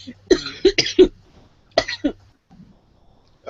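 A person nearby gives a burst of several sharp, rough coughs, then a pause and two more, with faint throat sounds after.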